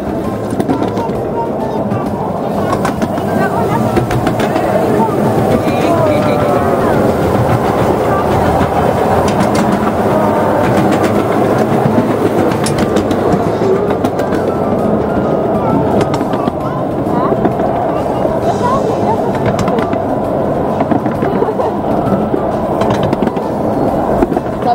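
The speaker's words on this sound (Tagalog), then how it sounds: "Nakasakay na si Aya sa train." Steady rumble and rhythmic clatter of wheels on track while riding a small museum train at the Central BC Railway and Forestry Museum, loud and continuous throughout with no break.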